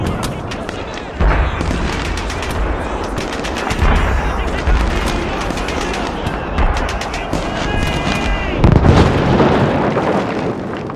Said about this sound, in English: with gunshots echoing within